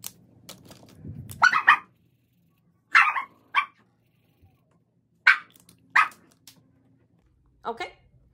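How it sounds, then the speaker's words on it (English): A dog barks in short, sharp bursts, several loud yips spaced over a few seconds in a quiet indoor room, fairly close. "If you guys heard my dog, I'm so sorry."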